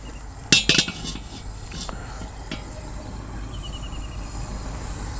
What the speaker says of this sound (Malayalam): ആദ്യം നമുക്ക് ഈ ചട്ടി വെക്കാം